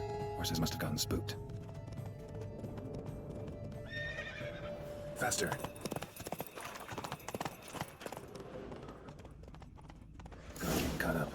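A horse's hooves clip-clop at a gallop with a sharp neigh partway through, in The Witcher 3: Wild Hunt video game, steady hoofbeats under game music while a voice speaks.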